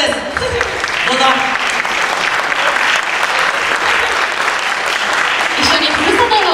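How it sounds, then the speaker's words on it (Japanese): Loud, sustained applause from an audience at a live community welfare event, dense clapping filling the whole stretch, with some voices faintly mixed in. "皆さん大きな拍手で"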